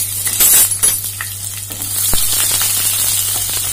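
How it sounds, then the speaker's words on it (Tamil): Onion frying in hot oil with mustard seeds for goat head curry, a loud bright sizzle with stirring scrapes and clinks, settling into a steady hiss. "நான் இப்போ வந்து வெங்காயம் ஆட் பண்ணிக்கிறேன்"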